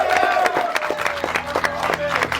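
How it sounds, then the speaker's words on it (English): Party guests give a round of applause, dense clapping and crowd noise with scattered cheers, fairly close and lively, with voices mixed in under the claps. "So a round of applause."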